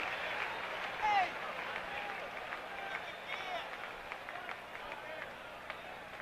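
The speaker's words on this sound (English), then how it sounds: "His crowd tries to stir it up." A partisan American League crowd at the 1977 MLB All-Star Game in New York, a steady roar of cheering and applause filling the stadium under a broadcaster's commentary.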